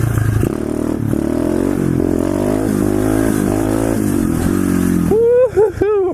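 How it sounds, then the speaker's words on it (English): A pit bike motorcycle doing a burnout, its small engine held at a loud, steady high rev for several seconds before sharp blips of the throttle at the end. "Well, Darwin, take that burnout, boy."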